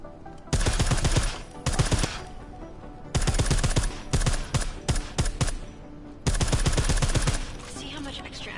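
Rapid bursts of gunfire from a Deus Ex video game, clustered into three loud volleys of quick successive shots with short pauses between them.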